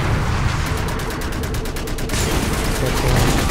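Rapid auto-aimed gunfire from the sci-fi shooter game Section 8 Prejudice, a dense continuous burst of shots with fast rhythmic pulses, loud and steady amid battle noise.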